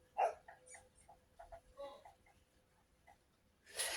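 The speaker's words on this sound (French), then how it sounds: "Elle aboie sur quoi, on n'en sait rien, mais elle aboie." A dog barks indoors in a handful of short, sharp yaps scattered across the moment, fairly faint and close, with quiet room tone between the barks.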